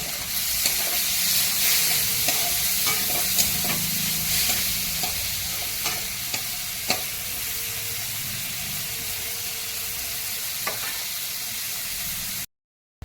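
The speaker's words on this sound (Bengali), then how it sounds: "ভাতটা দিয়ে হালকা করে ভেজে নিয়ে ওর মধ্যে একটুখানি নুন আর চিনি দিয়ে নিয়েছি।" Cooked rice being stir-fried in a pan for mixed fried rice, a steady hiss of sizzling oil with repeated sharp clicks and scrapes of a spatula stirring, close and continuous until it cuts off abruptly.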